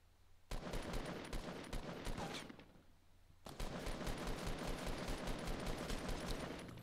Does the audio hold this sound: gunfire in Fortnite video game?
yes